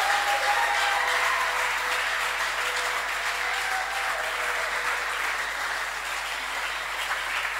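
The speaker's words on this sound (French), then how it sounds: "est-ce qu'on peut acclamer le Seigneur?" A church congregation applauding and cheering to acclaim the Lord, with dense, sustained clapping that fills the room evenly for the whole stretch under a faint hum.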